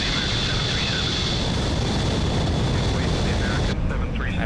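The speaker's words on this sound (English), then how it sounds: "This plane is incredibly loud." A loud supersonic jet engine heard from inside the cockpit in a flight simulator game, a steady, dense roar that fills the whole clip without letting up.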